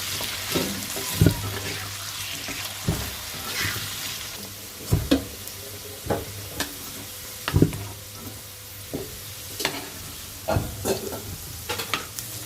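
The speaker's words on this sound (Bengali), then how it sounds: "যে আলু দিয়ে বোনা করবো সে আলুটা ভেজে নিব" Potatoes frying in oil for a duck giblet dish, with a continuous close sizzle broken by repeated scraping and clanking as a spatula stirs them, and no talking.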